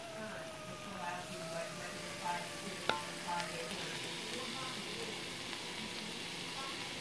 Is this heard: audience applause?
no